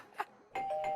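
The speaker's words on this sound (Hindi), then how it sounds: "बज गई घंटी।" A two-tone doorbell chime rings at the door of a home in a TV sitcom, a clear sustained ding-dong arriving suddenly after a faint earlier tap, with no talking.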